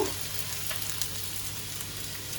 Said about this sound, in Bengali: এবারে একটুখানি এর মধ্যে ধনে গুঁড়ো দিয়ে দেব আর হচ্ছে একটুখানি কাশ্মীরি মির্চ দিলাম